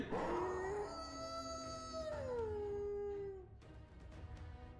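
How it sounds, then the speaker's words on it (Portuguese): Wolf howl emote from the Fortnite item shop: a single long, drawn-out howl that rises and then slides down in pitch, clear and alone, followed by a faint tail of game ambience. "Temos o uivo."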